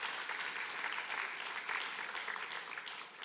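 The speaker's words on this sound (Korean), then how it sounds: "박수 한번 하겠습니다" Congregation in a church service clapping together in celebration, a steady, even wash of applause from many hands in the sanctuary, moderately distant and continuing throughout without talk.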